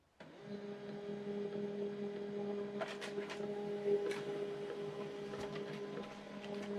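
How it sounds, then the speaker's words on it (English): An HP LaserJet M140we laser printer printing a page, a steady mechanical hum with a constant motor whine and a few short clicks and rattles from the paper feed, close and fairly quiet. "So the second page is still printing."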